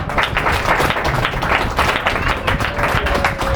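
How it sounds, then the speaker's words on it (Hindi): A church congregation at a Sunday meeting claps together, a dense, steady patter of many hands lasting a few seconds with no voices over it. "जोर से एक बार ताली बजाओ।"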